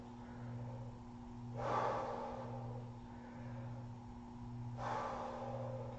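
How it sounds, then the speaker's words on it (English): Heavy breathing during a core workout, with a steady rhythm of faint breaths over a constant background hum and two stronger exhales a few seconds apart, without talk. "Belly breathing in between."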